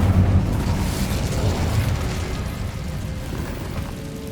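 An Incendio fire spell in Hogwarts Legacy gives a loud, sustained whooshing roar of flame that slowly fades over a few seconds.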